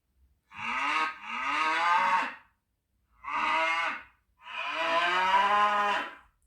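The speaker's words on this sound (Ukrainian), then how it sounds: "Я чую му, му. Хто говорить му? Так, це корова." A cow moos four times, long and low with breaks between calls, clear and fairly close in a quiet setting.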